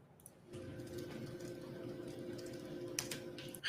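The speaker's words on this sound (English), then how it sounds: "Listen to all the everybody's typing." Soft, scattered keyboard clicking from several people typing, over a steady low room hum with a brief louder clatter near the end.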